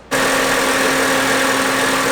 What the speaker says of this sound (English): let the car just sit and run